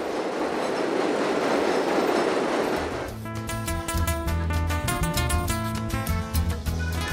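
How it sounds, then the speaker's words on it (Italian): A train passes close by, first a loud rushing roar, then rhythmic clattering wheels and a squealing, tonal hum as the cars roll past. "Sentite il treno."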